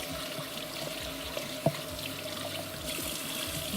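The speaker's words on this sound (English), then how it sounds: "I'm just gonna rinse my hands." Water runs steadily from a sink tap as hands are rinsed underneath, a continuous close hiss with one small knock partway through.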